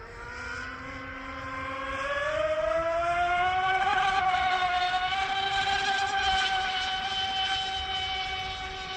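High-pitched electric motor whine from a small RC speedboat with a Hobbywing 300A HV Seaking ESC, rising in pitch as it speeds up on the water, holding steady, then easing off as it moves away.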